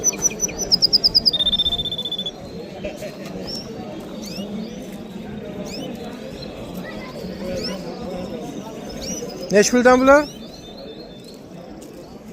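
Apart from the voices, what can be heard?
canaries chirping at a bird market in Samarkand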